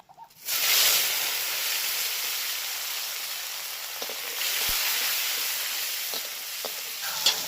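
Three medium tomatoes hit hot oil with cinnamon, bay leaves and whole cumin, bursting into a loud sizzle that settles into a steady, close hiss with small scattered pops.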